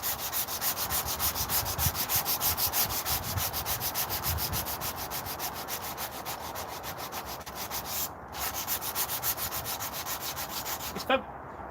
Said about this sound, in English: I'm just cleaning up a spear before you disappear on me.